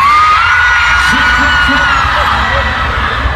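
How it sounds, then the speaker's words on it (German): Dense crowd of girls screaming together at a loud Easter rave in a concert hall, a sustained roar of many voices over thumping low-end music. "Alle Mädels, die heute am Tier der Halle sind, schreien bei drei."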